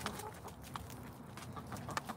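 Farmyard chickens peck at leftover grape pulp from homemade juice, clucking in short, scattered bursts at close range against a quiet outdoor background.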